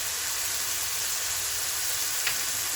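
Garlic and spices fry on maximum heat in a pan with a constant, loud, close hiss and crackle of sizzling oil that runs unbroken throughout, with no talking.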